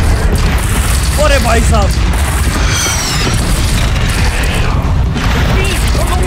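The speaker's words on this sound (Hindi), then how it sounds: "एक और ये मिसाइल मेरी तरफ छोड़ेगा।" Missile blasts in the Horizon Zero Dawn video game during a big machine fight: loud booming explosions and crashing under continuous dense game noise, with someone speaking briefly over it.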